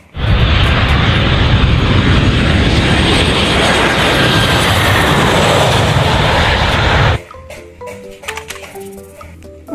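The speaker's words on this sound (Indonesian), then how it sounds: "Wah, ada pesawat terbang teman-teman." Toy airplane making a loud, steady jet-engine roar that runs continuously for about seven seconds and then cuts off abruptly, leaving faint tinkling tones.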